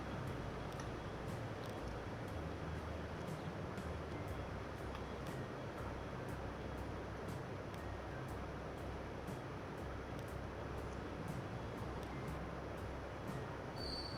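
Train pulling out in the railway game Transport Fever 2, a faint, steady rumbling rail noise with a continuous wash of wheel and track sound and light rhythmic clicks, distant and unbroken.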